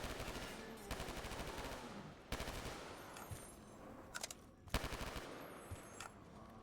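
Rapid automatic fire from an M27 rifle in a Black Ops 3 TranZit zombie mod, loud close bursts of repeated shots in several strings with short pauses between, no talking.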